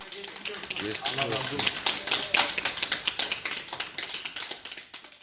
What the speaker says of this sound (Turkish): Hastaları sağlık çalışanları alkışlar eşliğinde evlerine uğurladı